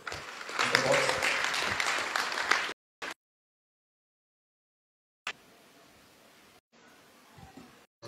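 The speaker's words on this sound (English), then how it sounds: "A round of applause for him, please." Audience applause for a speaker at a Gambian technical institute's graduation ceremony: a burst of clapping mixed with crowd noise and voices for under three seconds, then it stops abruptly and only faint room noise follows.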